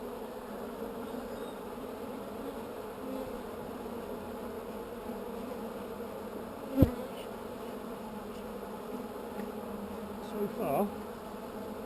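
Bees drone steadily around a Layens hive outdoors, a soft continuous buzz with a sharp knock partway through and a brief closer buzz near the end, while a voice speaks briefly.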